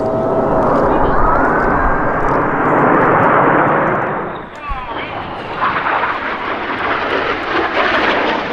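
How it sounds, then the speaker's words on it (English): Red Arrows jets roaring through a flying display at the Midlands Air Festival, a loud sustained jet rush that dips briefly then swells again as the formation pulls hard up, with a commentator talking over it. "Each aircraft now pull hard up."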